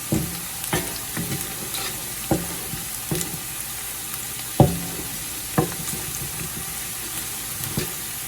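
Onion and garlic frying in a pan for a red pasta sauce: a soft continuous sizzle broken by sharp, regular scrapes and clinks of a spoon stirring against the pan, close up and with no voices.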